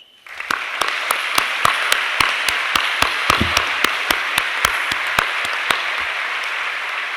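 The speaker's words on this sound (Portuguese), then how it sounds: "peço uma enorme salva de palmas" An audience at a solemn twentieth-anniversary ceremony breaks into loud applause, swelling quickly into steady dense clapping, with a few sharp individual claps standing out before it begins to thin.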